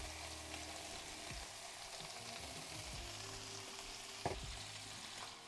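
Chopped bacon frying in melted butter and a splash of oil, a steady broadband sizzle with a few soft stirring knocks and one sharper clack near the end, no talking.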